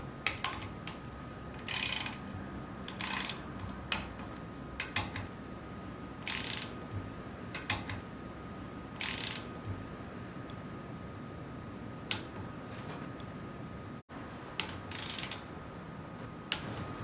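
A ratchet tightening the engine head bolts of a Simpson's Supremacy model 15 in stages, with short bursts of clicking spread irregularly over quiet workshop background.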